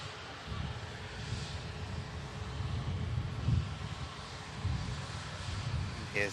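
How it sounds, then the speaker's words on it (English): A distant Icelandair Boeing 737 MAX lands on arrival from Reykjavik, its engines a low, steady rumble that swells slightly and is mixed with wind noise on the microphone. "Here's the Ice Max we just saw touching down, say arriving in from Reykjavik."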